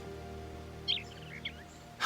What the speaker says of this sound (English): A real live bird.